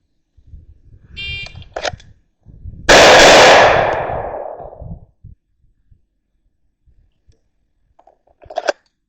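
A Springfield Armory Operator 9mm pistol is fired at a miniature IPSC target, giving one sharp, loud report with a ringing decay, among quieter metallic clicks and handling noises.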